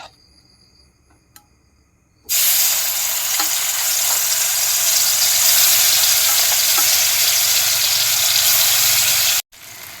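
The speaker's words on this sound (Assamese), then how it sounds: "এতিয়া কেৰাহীত দি দিম, তেল গৰম হৈ গ'ল" Spice paste drops into hot oil in a kadai with a sudden loud sizzle that keeps frying strongly for about seven seconds, then cuts off. Quiet kitchen background comes before it.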